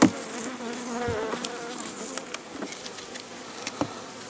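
Honey bees hum steadily at a hive where they are filling second brood boxes with nectar in hot autumn weather, a dense close buzz with occasional sharp taps and clicks of work at the boxes.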